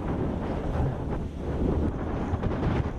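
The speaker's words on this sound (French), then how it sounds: "À lui seul, le vent glacial suffit à vous geler les cils." Cold, icy wind buffets the microphone in a mountain area near Yuxian and Chongli, a loud, dense roar that gusts and swells continuously for a few seconds.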